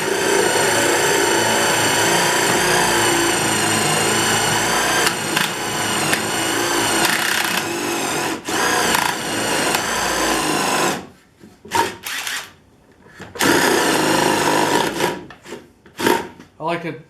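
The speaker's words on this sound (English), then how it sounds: "I have a 1 inch spade bit on my impact drill driver" A cordless impact drill driver with a 1-inch spade bit whines steadily as it bores through wood for a nuc box, then drops out and restarts in short bursts near the end.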